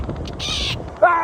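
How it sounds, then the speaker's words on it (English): A crow gives a single sharp caw near the end, following a short burst of hiss and rustle as a bird swoops down in an attack, all close and fairly loud with no speech. "I just got attacked by a bird."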